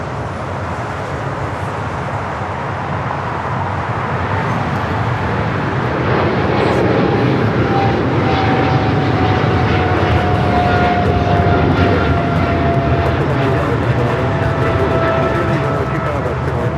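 A jet airliner rolls for takeoff on runway 25 right at LAX, a loud steady roar of engines building with a rising whine, with people talking over it.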